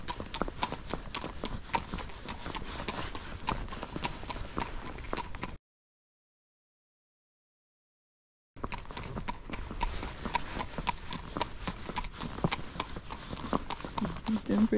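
Hooves of a spotted saddle pony clip-clop steadily on a trail ride, close and rhythmic, interrupted by a few seconds of silence, with a person talking over the walking.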